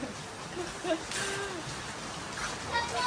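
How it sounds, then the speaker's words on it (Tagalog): Heavy rain pours down outside, a steady broadband hiss of drops filling the scene from start to finish, with a few faint voices and small sounds poking through. "Napakalakas po ng ulan sa labas."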